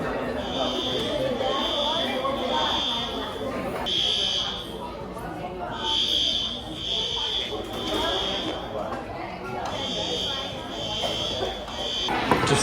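A fire alarm goes off inside a pizza restaurant, a loud, steady, piercing electronic tone pulsing in long stretches with brief gaps, over the busy murmur of a crowded dining room.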